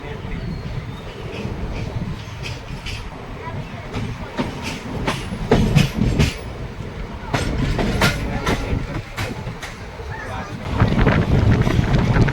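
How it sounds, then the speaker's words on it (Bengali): The Tatanagar–Asansol Express rolls along the rails past a factory with rhythmic clickety-clack beats over a loud rumble, heard close with some wind buffeting the microphone. "কোনো একটা ফ্যাক্টরির পাশ দিয়ে ট্রেন যাচ্ছে"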